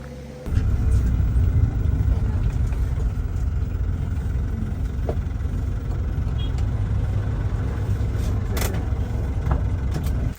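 Steady rumbling engine and road noise from passing trucks on a village road in Flores, Indonesia, heard as a continuous loud drone from near to mid distance with occasional faint clicks.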